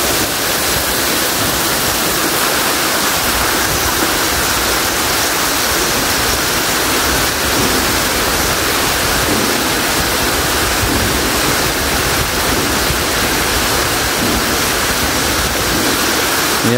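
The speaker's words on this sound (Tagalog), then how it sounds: "Kaya po marami siyang agos ng tubig dahil po ay malakas po yung ulan" Waterfalls roaring inside an underground river swollen by heavy rain, a loud, dense, unbroken rush of falling water filling the space with no voices.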